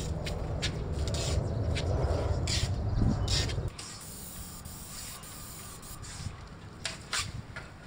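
A paint sprayer spraying a house gives a loud hissing spray that runs steadily, then cuts off abruptly, leaving quieter background noise with a few faint clicks and knocks.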